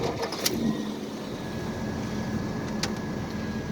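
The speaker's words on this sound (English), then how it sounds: "My starter's getting a little noisy, so don't mind that." A noisy starter grinds before an 1981 one-ton single-wheel square-body truck engine, swapped to a 4.3, catches and settles into a steady idle, heard at moderate distance.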